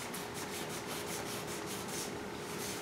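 Hand sanding of cured two-part polyester glazing putty over paint runs, a steady rhythmic back-and-forth scratchy rasp with regular strokes, close and continuous without talking.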